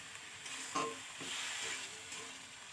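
Vegetables sautéing in a pan with a little water added, a soft, fairly quiet sizzle with a few brief stirring scrapes, close by and without speech.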